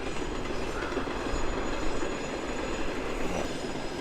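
Loaded coal train passing through a snowy, frigid former mining town, its wagons giving a continuous dense rumble and rhythmic clatter with light wheel squeal, heard alone without speech.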